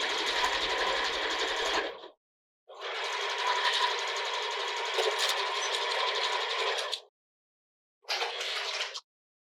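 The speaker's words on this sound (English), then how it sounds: "I am just going to sew this, again, using my 3/8 inch seam allowance." Domestic sewing machine stitching a sports bra seam at 3/8 inch allowance, running in three bursts: a two-second run, a long four-second run, then a short final burst, close and clear with silent gaps between.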